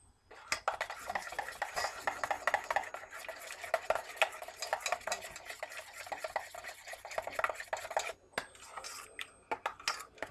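A thick homemade deep conditioner mix being stirred in a bowl gives close, continuous scraping and squelching strokes, with a short quiet pause near the end before a few final clinks.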